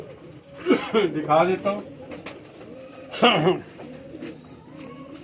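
Pigeons coo in short throaty bursts, belonging to barred (patti) cross-breeder pairs kept in a loft. Two louder cooing phrases stand out against a low background, and someone talks over part of it.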